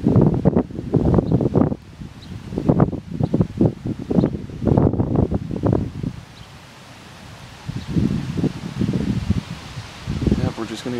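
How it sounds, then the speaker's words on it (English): Gusts of wind shake and rustle leaves during a wind storm in Cambridge City, Indiana, rising and falling in loud bursts close to the microphone, with people talking throughout. "we're just gonna get wind and little sprinkles"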